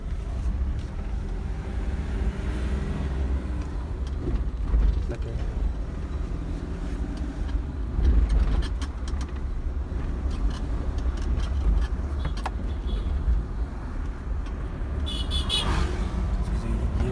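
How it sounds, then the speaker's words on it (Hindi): A Mahindra Quanto pulls away on a test drive after a clutch plate repair, giving a steady engine and road rumble with wind noise throughout and brief speech. "चलिए गाड़ी को मूव करते हैं"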